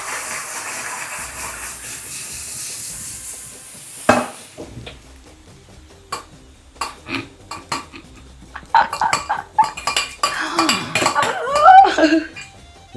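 Milk poured into a hot pan and mixed at home, starting with a soft steamy hiss, then a sharp clank and a run of metal spoon clinks and scrapes against the pan that grow busier toward the end.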